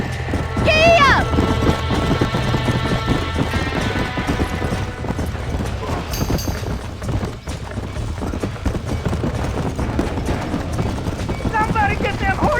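Horses clattering and galloping in the video game Red Dead Redemption during a barn fire, with a rapid clip-clop rhythm, a whinny near the start and game music and shouting voices layered over the hoofbeats.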